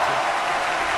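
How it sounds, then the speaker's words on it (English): Brief burst of dense applause filling the whole second at steady loudness, a clapping sound effect played during a live podcast-style show. "Round of applause for listening."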